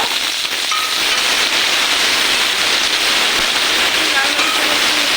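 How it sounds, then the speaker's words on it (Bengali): Chopped onion sizzling and crackling steadily in hot oil in a pan while prawn curry is cooked, a dense, even hiss running throughout with faint clinks. "পেঁয়াজটাকে ভেজে নেব"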